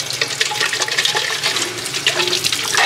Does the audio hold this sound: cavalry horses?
no